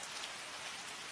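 Steady, dense rainfall hisses evenly without a break, a soft continuous wash of drops with no voices.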